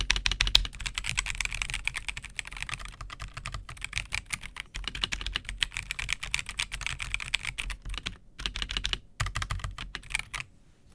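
Fast, steady typing on a Cooler Master MK770 keyboard, a dense run of crisp, close key clicks with occasional heavier space bar thuds and a couple of brief pauses, with no talking.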